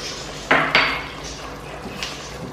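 A metal spoon stirs thick aloo gosht gravy in a cooking pot. Two sharp metallic clinks land close together near the start, followed by softer scraping and one fainter knock, with no talking.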